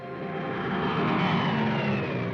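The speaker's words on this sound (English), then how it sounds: "Weather planes such as this Mosquito" Steady propeller engine drone of a de Havilland Mosquito weather plane in flight, a continuous even roar heard on its own from within or near the aircraft.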